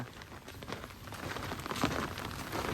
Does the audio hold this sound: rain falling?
yes